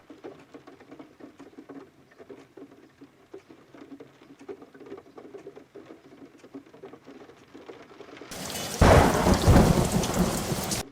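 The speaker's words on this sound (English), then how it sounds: "For goodness sake, it's raining all day long." A sudden burst of heavy rain comes in near the end, loud and broadband, after a long stretch of quieter background sound.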